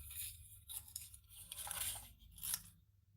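Scissors snipping through metallic paper while cutting out small hearts for a wedding bouquet, faint close crisp snips and crinkles in a few short bursts with quiet gaps between.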